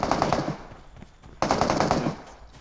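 Two bursts of rapid automatic gunfire in a video game, the second starting after a short pause, loud and close with no voices.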